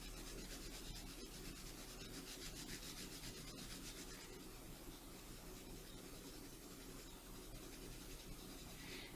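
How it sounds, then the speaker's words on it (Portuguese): A colored pencil pressed hard against paper while filling in a yellow sun, giving a steady, continuous close rubbing scratch that holds at an even level throughout with no talk. "vou apertar bem o lápis para deixar ele mais amarelo"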